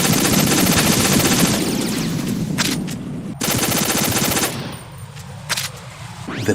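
Bursts of M4 carbine automatic fire in Metal Gear Solid 2, loud dense rattling volleys with brief gaps between them, close and harsh, with no talk over them.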